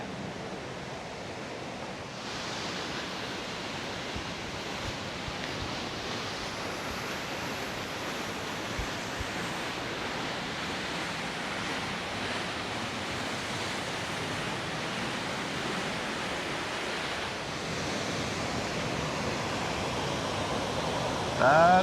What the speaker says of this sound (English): That is a great waterfall.